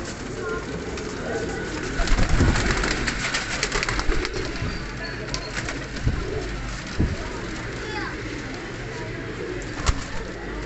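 Several black Zakh pigeons coo softly in a busy breeder's enclosure, with background chatter and shuffling throughout.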